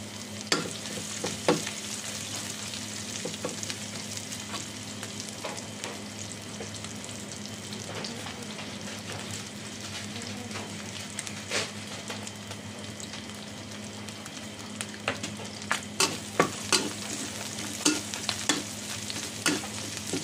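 Garlic sizzles steadily in a hot pan with pork, a close, constant frying hiss broken by scattered clicks and taps of stirring, with no one talking.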